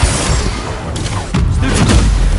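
A booming Confringo spell explosion in Hogwarts Legacy, loud and close, with two heavy thumping bursts layered over a dense roar of combat noise.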